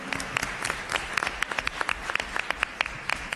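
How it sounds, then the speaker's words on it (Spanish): Audience applause at a Chilean presidential debate broadcast by Radio UdeC: a close, dense crackle of many hands clapping at once, with sharp individual claps popping out, steady and unbroken without talk. "Gracias por ese aplauso"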